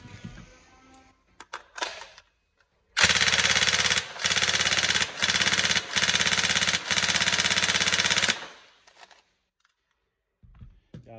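A Tokyo Marui MK18 NGRS airsoft electric gun fires on full auto in one long, loud, close burst of several seconds, broken by a few brief trigger pauses, with rapid mechanical cycling and quiet handling before and after.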